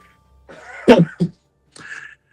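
A single harsh cough bursts out close by, followed by a short second hack and a quieter throaty rasp.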